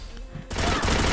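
Gunfire from a shooter video game bursts in abruptly partway through, a loud, dense volley of rapid shots that fills the rest of the moment after a quieter stretch.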